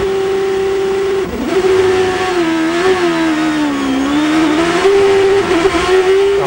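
An onboard 2007 Champ Car with a 750-horsepower Cosworth XFE engine on Bridgestone tires, a loud, close, high-pitched engine whine that rises and falls through gear changes and throttle lifts for several seconds, with no voices.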